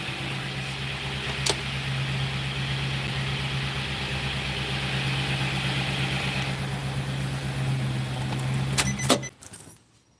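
A Nissan NV3500 van, unstarted for two years, runs at a steady low idle with a constant hum and a sharp clatter early on, before the engine cuts off near the end.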